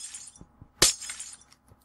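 Glass shatters once in a video game: a sharp, bright crash with a tinkling tail of falling shards, set among soft, quiet thumps.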